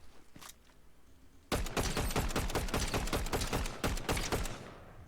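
Rapid bursts of gunfire from a Fortnite battle royale match, a loud volley of dozens of sharp cracks starting after a quiet moment and continuing in dense, uneven clusters before tapering off.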